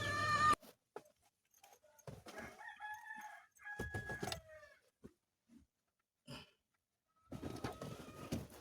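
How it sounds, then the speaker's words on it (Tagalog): Brood roosters crow several times in bursts, fairly close, with gaps of quiet and a few clucks between calls. "Ayun na po ang ating mga broodcock, mga manok."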